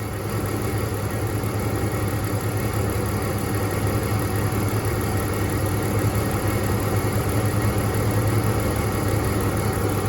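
A car engine idles with its cylinder 1 fuel injector unplugged, giving a steady, close, droning rumble with a slightly uneven, lumpy beat from the dead cylinder; no one speaks.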